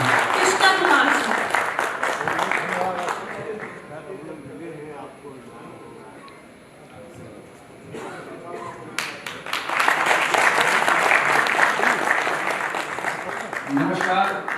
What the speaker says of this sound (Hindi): जोरदार ताली से स्वागत कीजिए सर कृष्णा कुमार जी।